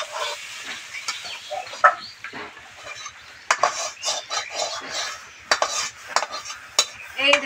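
A cooked bitter gourd dish in a pan being stirred and taken off, with repeated close clinks and scrapes of a metal utensil over a faint sizzle.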